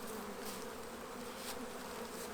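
Honeybees buzz in flight around hives in a cool apiary, a steady close drone with several passing bees swelling briefly louder.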